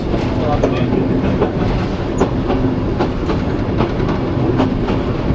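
A 61RM railmotor rolls steadily along the track between Maldon and Muckleford, a continuous rumbling drone with faint rhythmic clatter from the wheels, close and fairly loud throughout.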